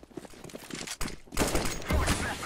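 Rapid gunfire from a Counter-Strike: Global Offensive match, with a short burst of shots followed by a louder, denser volley of automatic fire, close and loud, with no voices over it.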